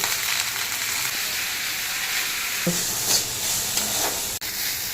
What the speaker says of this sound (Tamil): புதினா போட்டு ரொம்ப நேரமாக வதக்க திட்டமாக வதக்கி அரைச்சிக்கலாம்